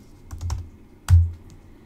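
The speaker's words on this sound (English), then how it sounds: "Now let's type in the last name." Several quick keystrokes tap on a computer keyboard as a last name is typed in, a short uneven cluster of close clicks with one sharper, louder strike near the end.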